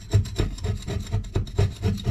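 Part of an ACR Woodpecker wood stove being shaved on a scraper, a close rhythmic rasping of repeated short strokes, steady and alone.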